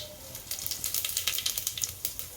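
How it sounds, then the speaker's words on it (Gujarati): Mustard seeds and cumin crackling in hot oil for tadka, a fast run of small popping crackles over a soft sizzle, close and fairly quiet. "હવે આપણું તેલ આવી ગયું છે રાઈ નાખશું એમાં થોડું જીરું નાખશું"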